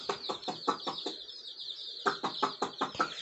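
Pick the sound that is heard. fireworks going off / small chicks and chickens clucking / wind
small chicks and chickens clucking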